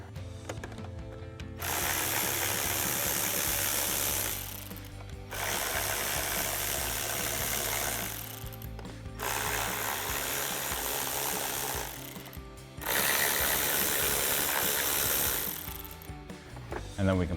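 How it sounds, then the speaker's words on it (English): A ratchet with a 7mm socket removing bolts from a Jeep Wrangler JL, heard as three long bursts of rapid mechanical clicking and whirring, each lasting a few seconds, separated by short pauses. "we can grab our 7mm socket to remove all of our bolts"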